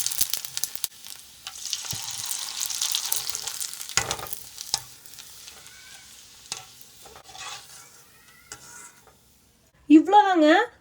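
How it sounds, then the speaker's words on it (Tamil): Sago vadagam and curry leaves deep-frying in hot oil give a busy crackling sizzle that is strongest at first and then thins out, with scattered clinks, and a short wavering musical tone closes it. "கருவேப்பிலை வடகம் கூட போட்டு பொரிச்சு எடுத்துக்கலாம்."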